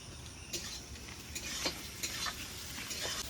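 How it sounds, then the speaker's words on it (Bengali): Onions fry in oil in a pan while being stirred for a rainy-day khichuri, giving a steady close sizzle broken by repeated scraping strokes of a spatula, with no talking. "পেঁয়াজটাকে সুন্দর করে হালকাভাবে একটু ভেজে নেব"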